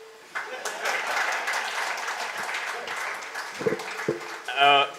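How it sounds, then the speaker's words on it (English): An audience breaking into applause, a dense spread of clapping from many hands that swells and carries on, with voices and cheers rising over it near the end. "A round of applause as he goes back."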